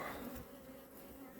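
Honey bees buzz around wooden hive frames during a honey harvest, with a close, steady, droning hum that continues without a break and no talking.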